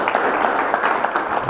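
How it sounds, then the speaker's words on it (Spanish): An audience at a lecture on religious persecution in Mexico applauds to welcome the speaker, licenciado Ramón González González, brief steady clapping with distinct individual claps audible. "lo recibimos con un fuerte aplauso"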